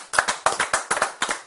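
A short run of sharp, distinct hand claps follows a recited Arabic rendering of Hamlet's soliloquy. About eight crisp claps come in an uneven rhythm, close and fairly loud, with no talk over them.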